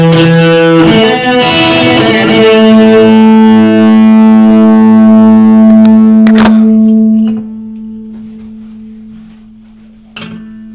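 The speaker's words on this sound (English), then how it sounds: "It's kind of more of a twin reverb on that one." An electric guitar played through a Twin Reverb amp with reverb, loud sustained distorted chords ringing with long tails, then a held note fading slowly, followed by a sharp click near the end.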